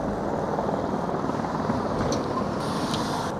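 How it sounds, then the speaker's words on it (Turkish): A helicopter's steady rotor and engine roar fills the scene continuously at a loud, constant level, with no voices. "Gördüğünüz gibi helikopter iniyor."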